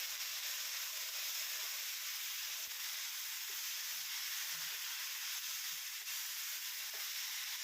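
Crushed ivy gourd and prawn mixture frying in a pan with mustard seeds and curry leaves, giving a steady, fairly faint broadband sizzle with a few soft low knocks throughout.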